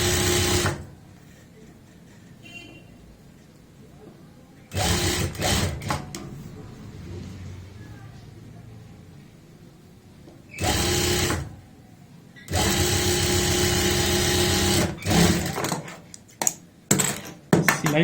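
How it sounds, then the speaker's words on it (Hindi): A sewing machine stitches the edge of fabric for a dhoti salwar in bursts of steady, close mechanical whirring separated by quiet pauses, with brief talk in between. "किनारी की सिलाई लगा लेते हैं।"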